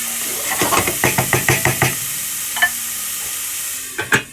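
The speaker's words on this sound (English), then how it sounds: "Give it another wee stir." Salted onions being stirred in a pan: a run of sharp spoon knocks against the pan in a quick rhythm, then a couple of isolated clacks, over a faint sizzle with no talking.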